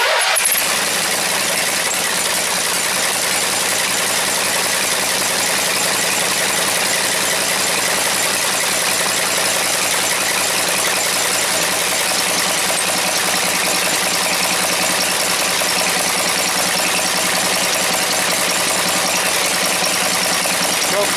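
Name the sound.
Briggs and Stratton opposed twin engine starting and idling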